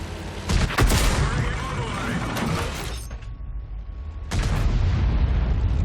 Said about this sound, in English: And there's the artillery fire.